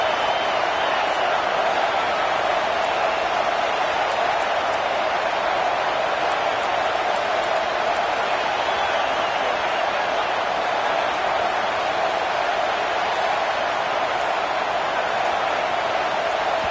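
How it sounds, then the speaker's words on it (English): Stadium crowd in the College Football 26 video game roars in a steady, dense wash of noise that holds loud and unbroken throughout, with no talk over it. "The roar of the crowd trying to fuel this defense to keep them pinned in their own end."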